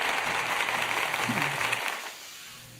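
Applause sound effect, a sustained crowd clapping texture that fills the clip loudly before thinning and fading out near the end.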